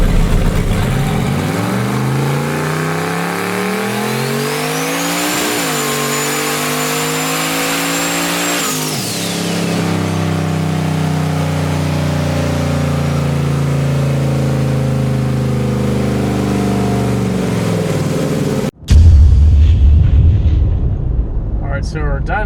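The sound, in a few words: 1991 Foxbody Mustang LS turbo engine revving on a dyno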